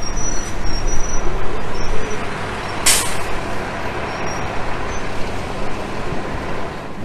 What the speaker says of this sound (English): we can see it on the bus that's driving up right now